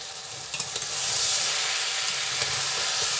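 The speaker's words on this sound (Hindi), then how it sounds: "शामिल कर देंगे हम भिंडी। तो तकरीबन 1 मिनट 2 मिनट तक इसको भूनेंगे।" Okra is added to onions and spices in a hot pan, a few clattering drops giving way to a loud, continuous sizzle with stirring scrapes, close and steady.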